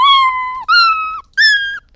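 Three short, high-pitched, sped-up cat meows play as a Scratch sound effect, each clear and loud with a brief gap between them, like a tiny kitten.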